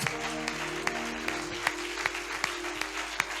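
A church congregation claps in a steady rhythm during worship, with sharp, regular claps over sustained musical tones.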